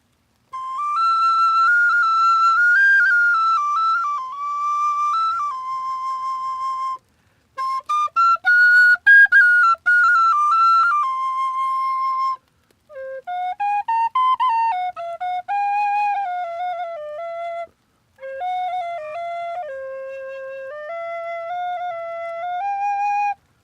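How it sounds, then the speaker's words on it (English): Tin whistle playing a slow, clear melody without reverb, sustained notes in four phrases separated by short pauses, loud and alone. "This is another tin whistle."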